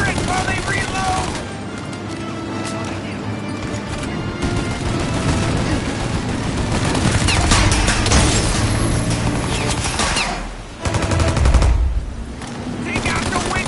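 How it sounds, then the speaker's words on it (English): A turret in Mafia Definitive Edition fires long, dense bursts of gunfire that stay loud and close the whole time. Game sounds and shouted voices mix in, and there is one short lull before the heavy firing starts again. "Shoot the gun! Get the turret while they reload!"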